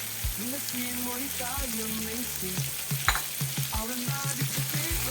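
Tomatoes laid onto meat in a cauldron make a steady, close sizzle, with soft clanks and scraping thuds of the utensil on the pot.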